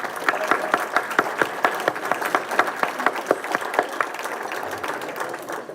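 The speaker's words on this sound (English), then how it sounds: "One more round of applause for all of our recipients" Audience applause for award recipients at a Chamber of Commerce awards dinner, sustained clapping with distinct individual claps standing out, steady throughout and fading slightly at the end.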